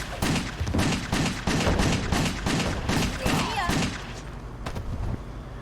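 Rapid gunfire bursts from the video game Wet, a dense string of repeated shots and thuds over background music, loud and close throughout.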